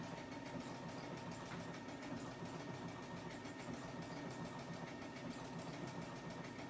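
A sewing machine stitches lace with a wing needle at a steady, even speed, giving a continuous faint whirring hum with fine rapid ticking throughout and no voices.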